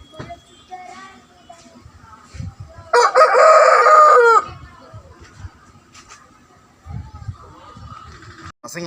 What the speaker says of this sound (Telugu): ఫైట్ ఉంది, మంచి యాక్టివ్ కోడి